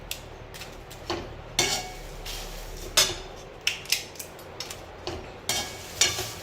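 Cinnamon sticks and whole spices for a Konkan goda masala are broken into pieces by hand, giving a run of sharp, dry snaps and cracks at irregular intervals, fairly quiet and close, with no talking.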